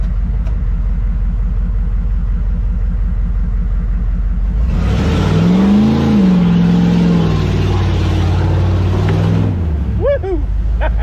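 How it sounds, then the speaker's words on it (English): A Humvee engine running without a muffler roars and revs, loud and rough, a deep rumbling drone that swells midway with rising and falling pitch, close and raw-sounding. "This thing sounds ignorant"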